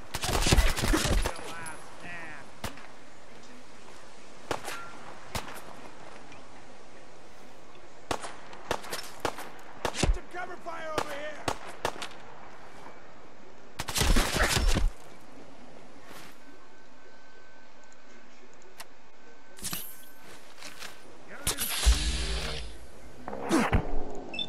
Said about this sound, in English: he suddenly starts throwing grenades everywhere